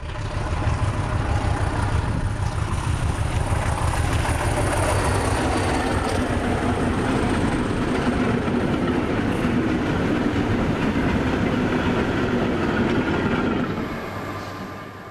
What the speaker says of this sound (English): Other workings include salt trains to and from Lule.